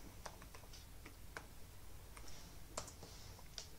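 Soft clicks of a computer keyboard as a password is typed at a TrueNAS Scale login, irregular keystrokes close and quiet with no talking.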